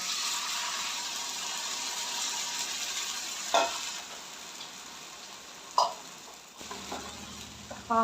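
A gram flour mixture for pithla goes into a hot pan and is stirred, making a steady close sizzle broken by a few sharp spoon knocks and scrapes against the pan.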